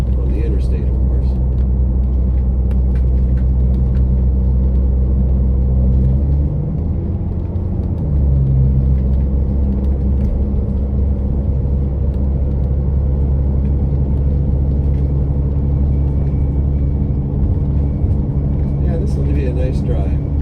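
Bluebird Wanderlodge motorhome cruising at about 75 mph on the interstate, a steady loud low engine and road rumble throughout, with faint speech mixed in.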